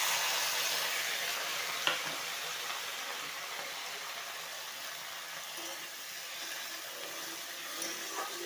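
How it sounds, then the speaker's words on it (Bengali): Bitter gourd curry tipped into a sizzling panch phoron tempering, producing a steady, moderately loud hiss of frying with a brief clunk early on, alone without talk. "ফোড়নটা একটু পোড়া পোড়া হয়ে গেলে আমি এই তরকারিটা দিয়ে দিচ্ছি।"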